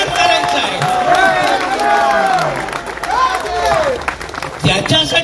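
A rally crowd at Azad Maidan in Panjim, Goa, applauds and cheers in a dense, continuous roar, with raised voices and shouts rising out of the clapping throughout.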